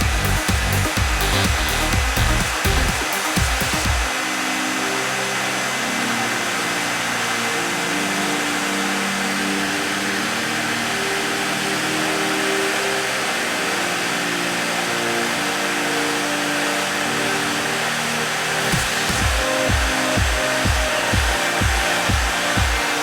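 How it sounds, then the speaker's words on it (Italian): A powerful hair dryer blows a steady, loud whooshing roar for over twenty seconds while heating a mountain bike disc brake pad to evaporate oil, with brief rattling and clicking at the start and end. "il phon è molto potente"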